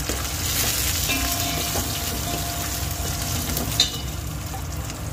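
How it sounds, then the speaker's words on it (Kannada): Curry leaves hissing in hot tempering oil with mustard seeds, cumin, dried red chillies, garlic and onion, a steady close sizzle with a brief louder crackle near the end and no talking. "ಈಗ ನೋಡಿ ಕರಿಬೇವು ಕೂಡ ಹಾಕಿದ್ದೀನಿ."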